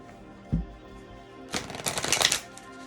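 Oracle cards being shuffled close up: a single soft tap, then a rapid flurry of riffling, flicking card sounds lasting about a second, alone without talk.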